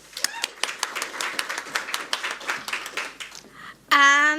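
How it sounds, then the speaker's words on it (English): An audience at an open source security conference session claps for the speakers, a dense run of many hands that stops near the end as a voice begins to speak. "A round of applause for them"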